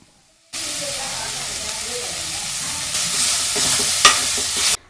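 Grated coconut, coriander, mint and chana dal fry in a pan for mushroom sambar, a loud steady sizzle starting abruptly after a short pause, growing brighter with a sharp stirring scrape near the end.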